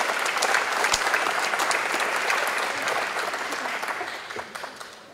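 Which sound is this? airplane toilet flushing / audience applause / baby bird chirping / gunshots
audience applause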